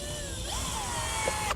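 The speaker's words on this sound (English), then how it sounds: "we'll drill our holes out with a 3/16 inch bit" A power drill with a 3/16 inch bit bores holes through a car dashboard, its motor whining steadily and rising in pitch, close up and without speech.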